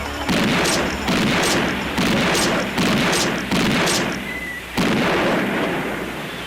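Repeated loud shotgun-like blasts from a film, about six heavy booming shots at roughly one-second intervals, each with a sharp attack and a reverberant tail, with no talk.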